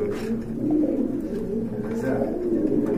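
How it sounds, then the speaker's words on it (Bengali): A black Spanish pouter pigeon coos nearby in low, rolling throaty phrases that repeat steadily over three seconds, while someone talks over the birds. "এটা হচ্ছে স্প্যানিশ পোর্টার, ব্ল্যাক কালার"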